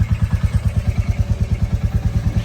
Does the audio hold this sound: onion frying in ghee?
no